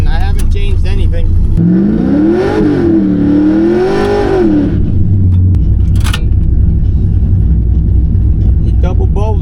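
Engine of an LS2-swapped El Camino at a drag strip, a loud rumbling idle that swells into a rising and falling rev before settling back, with nearby chatter and car noise around it.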